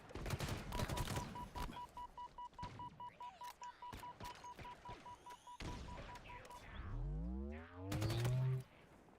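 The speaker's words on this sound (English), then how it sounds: "They got like automated turrets and shit?" Automated turrets fire in Halo Infinite, steady rapid bursts of evenly spaced shots with a beeping tone, followed by a rising mechanical whine and a heavy rumble near the end.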